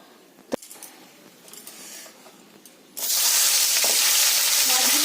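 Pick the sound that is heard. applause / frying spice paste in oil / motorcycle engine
frying spice paste in oil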